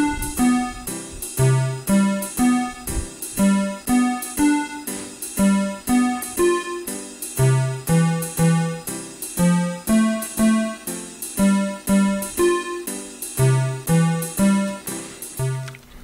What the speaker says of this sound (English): The second note that the walking bass plays has a little more freedom.